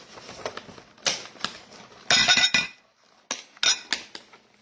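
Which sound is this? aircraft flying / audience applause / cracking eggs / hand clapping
cracking eggs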